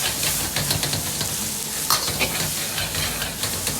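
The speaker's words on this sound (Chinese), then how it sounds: "从锅边烹入适量的生抽酱油，提味提鲜又上色，翻炒出香味。" Minced ginger and scallion stir-fry in a wok with soy sauce poured in, giving a loud, close sizzle with repeated scraping stirs of a spatula and no voices.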